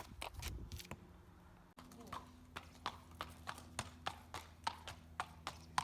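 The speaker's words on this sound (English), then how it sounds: "listening to the footfalls you can hear that George lands heavier with the left hind limb" A horse named George moving along with a heavier left hind limb, steady rhythmic hoof clip-clops close by, evenly spaced footfalls with a quiet background.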